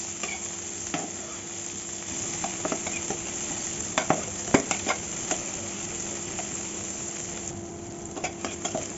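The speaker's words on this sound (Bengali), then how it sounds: "তো পেঁয়াজ একটু ভালো করে ভেজে নিতে হবে।" Onions sizzle and fry in hot oil in a pan, a steady crackle broken by scattered louder pops and stirring clicks, close up with no talk.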